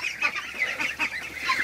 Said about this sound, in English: I'm looking at all these big birds and I'm looking at my goose here